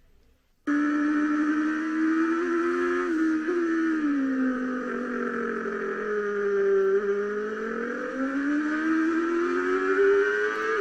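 A BMW S1000RR motorcycle accelerates hard out of a turn on a race track. After a brief quiet start the engine note comes in loud and steady, its pitch dipping and then climbing again as the bike pulls through the gears.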